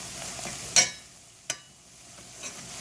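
Cinnamon sugar tortillas frying in hot oil give a faint, steady sizzle, broken by a few sharp pops spaced about a second apart.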